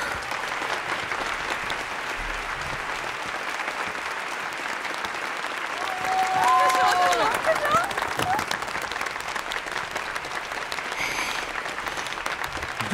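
Sustained audience applause at a campus singing contest, steady clapping from a large crowd for the whole stretch, swelling slightly midway, with a few brief whistles or cheers rising above it.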